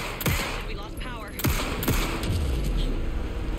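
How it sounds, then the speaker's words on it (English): Gunfire in the video game Alan Wake 2, a few separate loud shots spread across the moment, with a voice speaking between them and a low rumble underneath. "Anderson, pin him down with gunfire for me to get the light on him"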